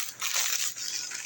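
Sugar poured into a cooking pot in a home kitchen makes a brief grainy, crunchy rustling rush, close and steady, with no talking.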